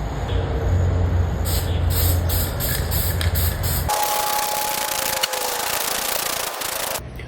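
A third, wet coat of spray paint goes onto car rims, a loud continuous hiss from the can nozzle at close range. It is broken into rapid pulses at first and then turns into a steadier spray.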